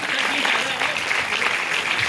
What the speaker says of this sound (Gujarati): મિત્રો તાળીઓ બહુ જ ઓછી પડી રહી છે આપની.